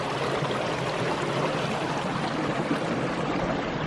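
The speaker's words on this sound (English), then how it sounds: "Nice, good running water." A running stream at a winter trailhead on Gum Springs Road in Shawnee National Forest gives a steady, close, unbroken rush of flowing water that fills the whole moment with no other sounds.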